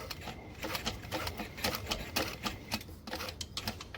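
A sewing machine stitching a hobo bag at a 5 stitch length, running in a fast, continuous rattling patter of needle strokes with slight surges, close and fairly quiet, without speech.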